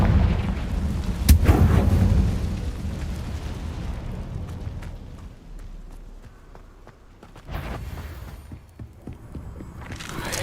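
In the video game Hogwarts Legacy, a Confringo fire spell bursts with a heavy booming explosion that rumbles and fades over several seconds, followed by scattered thuds and a second swelling burst near the end.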